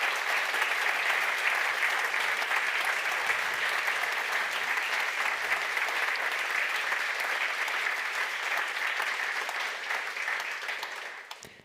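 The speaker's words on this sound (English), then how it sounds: "Please, one applause for all the contributors." Long, steady round of applause from a conference audience at the Neos Conference center stage, thick continuous clapping from many people that stays level before tapering off at the very end.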